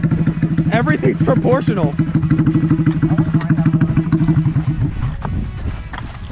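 A small kid-sized motorcycle engine runs steadily close by with a rapid, buzzing idle throughout, while people talk over it.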